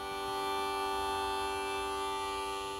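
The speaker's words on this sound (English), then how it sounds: "I also had a harmonica, which again is from that Chapman sample pack actually" Sustained harmonica from a Nathan Chapman sample pack holds a single root note, a steady buzzy reed tone with bright harmonics that stays level and unbroken throughout, with no other instruments or voices.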